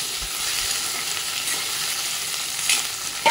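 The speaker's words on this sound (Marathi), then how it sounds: "मस्त असं लालसर होईपर्यंत ते परतत राहायचं, टोमॅटो आणि भेंडी." Okra, onion and tomato are stirred and sautéed in a pan for a bhendi curry, a steady close sizzle of frying with light stirring scrapes throughout, no voices.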